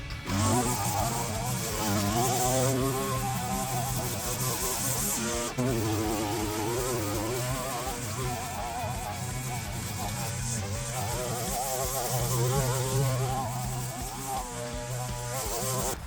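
A gas multi-tool weed eater trims tall grass and weeds along a ditch with a continuous buzzing engine drone that varies slightly in pitch as it cuts, loud and close throughout.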